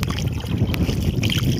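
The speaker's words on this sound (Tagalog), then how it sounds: "Lakas talaga ng hangin birds." Strong wind at sea buffeting the microphone on a small fishing boat, a dense, loud, continuous roar with a low rumble throughout and no voices.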